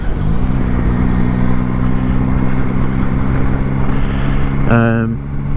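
A 2024 Yamaha Tracer 9 GT+ with its three-cylinder CP3 engine rides along with a loud, steady engine drone under heavy wind rush, then a brief rising rev near the end.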